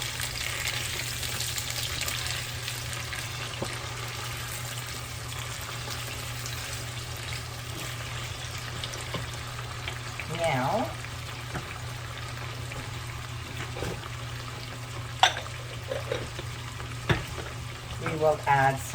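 Washed, cut tomatoes hit a hot frying pan for Sicilian pasta alla Norma, giving a steady, close sizzle and crackle throughout, with a few stirring scrapes and small clinks near the end.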